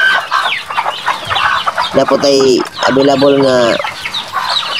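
Farm chickens cluck and squawk loudly up close, with a couple of drawn-out calls rising over the flock, while someone talks over the noise.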